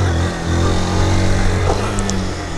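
A Fazer 160 motorcycle (2023) revs its engine steadily and loudly up close as the rider lifts into a wheelie.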